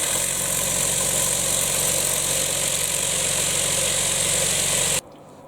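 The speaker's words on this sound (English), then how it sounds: "So it's called a case tumbler, vibratory brass cleaner." A cheap vibratory case tumbler brass cleaner running, a steady close rumbling hum with a buzzing rattle that cuts off abruptly near the end.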